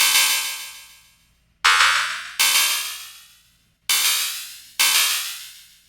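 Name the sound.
Ableton Spectral Time delay effect with frequency shift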